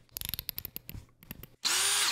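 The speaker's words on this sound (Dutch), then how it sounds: "Ik moet 6 mm boren in het gipsplafond hier." A power drill bores a 6 mm hole into a plasterboard ceiling, with a run of close clicks and taps before it, then a loud, steady whining drill burst at the end.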